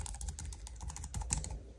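A computer keyboard connected to a powered hub is typed on in a quick, continuous run of light clicks, faint and close, with no voices.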